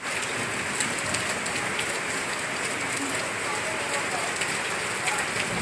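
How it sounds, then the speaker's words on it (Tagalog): Heavy rain pours down in strong wind during flooding, a dense, steady hiss of drops hitting surfaces, loud and unbroken throughout. "kusog kayo hangin sir ang ulan."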